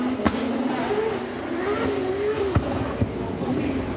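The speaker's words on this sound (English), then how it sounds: "Higuchi and BRZ coming right behind him." Drift cars including a Subaru BRZ accelerating at Sportsland Sugo during a Formula Drift Japan tandem run, engines droning and rising in pitch at a distance, with a few sharp pops and a commentator talking over them.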